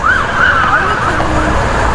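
A police car siren wails loudly and continuously during a traffic stop of a Camaro, its rising and falling tone sweeping clearly over road noise and faint voices.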